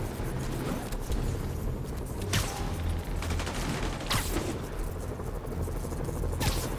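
Scattered gunfire aimed at a police vehicle in Marvel's Spider-Man, heard as a few sharp bursts over a steady, busy game background rumble with mechanical clatter.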